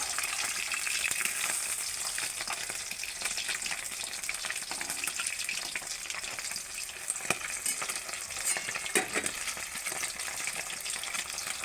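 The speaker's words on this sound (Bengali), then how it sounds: "মাছগুলো ভাজা হয়ে গেছে, এবার তুলে নেব।" Fish pieces frying in hot oil for a home-cooked dish, a steady dense sizzle and crackle with occasional stirring clinks, close and continuous throughout with no talking.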